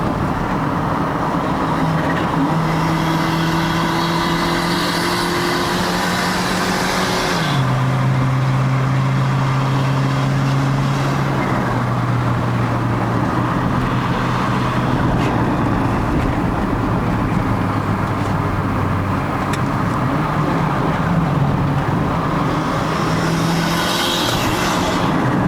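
A turbocharged 1.3-litre Perodua Bezza with a bolt-on turbo drones and shifts pitch as it revs and changes gears on a hill climb to Genting, Malaysia, with wastegate hiss and whoosh over a long steady run.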